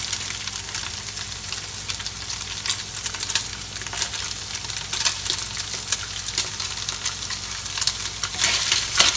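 Garlic sautéing in oil for lumpiang sariwa filling makes a steady bright sizzle, with irregular scraping and stirring strokes and a low hum underneath throughout.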